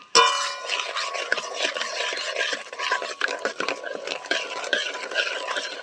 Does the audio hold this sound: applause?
no